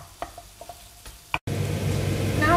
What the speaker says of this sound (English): when the oil is boiling, you just put the onion and you will cook the onion